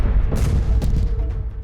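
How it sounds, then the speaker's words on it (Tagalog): Loud explosion from bombing in Tel Aviv at night, heard from a building near a residence: a deep, rumbling boom with a second burst of impact soon after, heavy low-end energy sustained throughout. "Isa ring malakas na pagsabog ang narinig ng OFW na si Mel"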